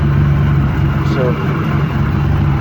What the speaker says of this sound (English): That's the engine.